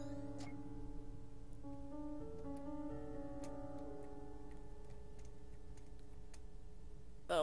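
Ticking clock in the adventure video game To the Moon, with a steady, faint tick running under soft piano-like game music throughout, ending in a brief louder sound.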